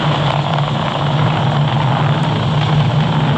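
Falcon 9 rocket engines throttled down during launch ascent produce a loud, continuous roaring rumble with a steady low hum, heard alone without talk.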